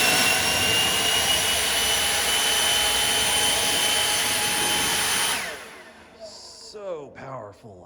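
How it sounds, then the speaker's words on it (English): A DeWalt electric leaf blower roars loudly and steadily at close range, then cuts off abruptly, after which a person speaks. "I ended up buying like the best version of this because I was hesitant for so long to buy an electric blower"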